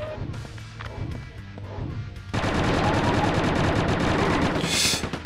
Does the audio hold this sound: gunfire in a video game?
yes